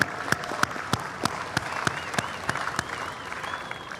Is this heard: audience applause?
yes